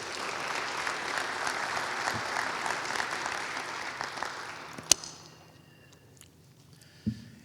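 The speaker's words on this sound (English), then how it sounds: "let's give our Department of Emergency Management a round of applause" Audience at a county State of the County address gives a sustained round of applause that gradually fades out, followed by a sharp knock and a brief thump in the quiet afterward.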